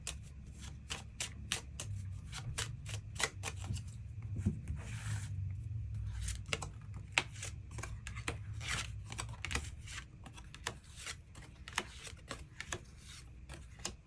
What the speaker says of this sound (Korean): 추가 카드로 일별로 월요일부터 일요일까지 어떤 하루하루를 보내게 될지 추가 카드 뽑아보도록 하겠습니다.